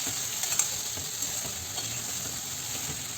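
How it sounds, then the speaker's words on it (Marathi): Mixed vegetables being stir-fried in oil and masala for a rustic tadka-style bhaji, with a steady soft sizzle and faint scraping and stirring knocks throughout, close and fairly quiet, no talk. "आता त्या छान आपण या मसाल्यामध्ये अशा परतून घेऊया."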